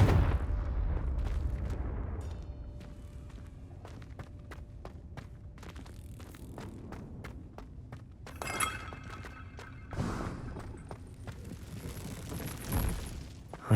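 Confringo fire spells go off in the video game Hogwarts Legacy, a string of sharp cracks and clinking impacts with a couple of louder fiery bursts near the end, moderately quiet against a low background rumble.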